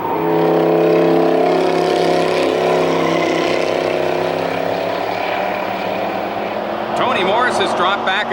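Race cars from the 1989 GM Motorsports series roar down the back straight at Westwood, a loud, sustained engine drone with shifting pitch, overlaid by a commentator's voice.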